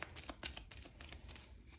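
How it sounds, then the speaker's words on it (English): Yellow game cards for the board game Eldritch Horror being shuffled, a quick soft riffling flutter close by, quiet and continuous for a couple of seconds. "Shuffle these up,"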